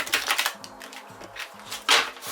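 A Traditional Manga Tarot deck of slippery cards is shuffled close by in quick bursts of crisp clicking riffles, separated by short pauses.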